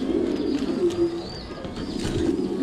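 Three young, not-yet-fledged Thai Titan meat pigeons coo in a low, continuous murmur, close by and steady, with faint higher chirps above and no talking.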